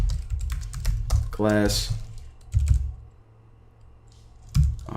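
Computer keyboard typing for a Django and Bootstrap coding lesson, rapid clusters of close, crisp key clicks with pauses, while someone speaks briefly in between.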